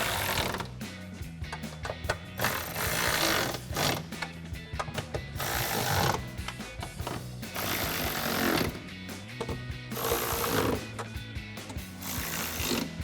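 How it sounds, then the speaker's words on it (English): Rapid ratcheting and the buzz of a power tool as bolts are tightened with an 11 millimeter socket on a Jeep Wrangler JL exhaust, in loud bursts with brief pauses, close by. "we'll tighten those all back down with that same 11 millimeter socket"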